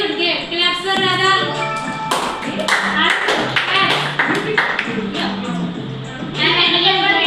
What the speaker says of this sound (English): Claps for Radha.